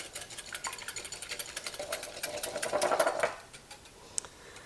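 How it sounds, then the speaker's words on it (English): A whisk beats one egg in a bowl with fast, rhythmic tapping that builds in intensity, then slows to a few final clicks, close and fairly quiet with no talking. "we're gonna crack 1 egg into our bowl. Now I'm going to go ahead and whisk this up."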